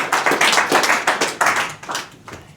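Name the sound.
audience applause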